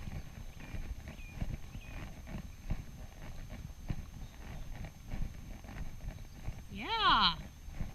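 A horse's hooves clip-clop steadily on soft footing during a dressage riding lesson, faint under ambient noise, with a brief snort or whinny near the end and voices talking in the arena.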